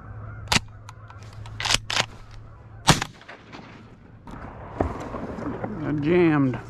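Shotgun blasts while duck hunting, several sharp, loud reports spaced irregularly over a few seconds, close to the shooter, with someone talking between them and duck-call quacking near the end.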